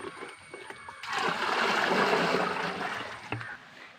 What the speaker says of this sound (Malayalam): ഇനി നമുക്ക് കുളത്തിലേക്ക് ഒഴിക്കാം.